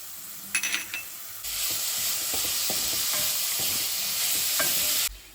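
Raw grated carrot, beetroot and green peas fry in a pan with salt for veg patties: a loud, even hiss starts abruptly and holds for several seconds, with light stirring clinks scattered through it before it cuts off.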